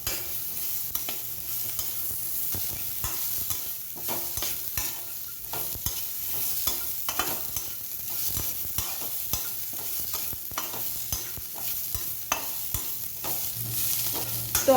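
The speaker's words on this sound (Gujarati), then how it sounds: "તેની અંદર આપણે કટ કરેલી ડુંગળીને એડ કરી દઈશું અને આને પણ આપણે સાંતળી લઈશું." Chopped onions sautéing in a pan for a moong dal dish, a constant loud sizzle with frequent rhythmic scrapes and stirs of a spoon throughout, no speech.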